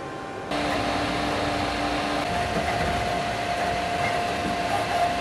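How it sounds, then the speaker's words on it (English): Qidi X-Plus 3 3D printer running a fast print, its cooling fans giving a loud, steady whir with a faint tonal hum that starts abruptly and holds constant without talk. "Fast printing needs good cooling and with that comes noise."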